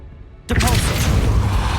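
A Depulso spell fires in Hogwarts Legacy, a sudden loud magical burst with a whooshing, booming rush that erupts after a quiet moment and sustains densely to the end.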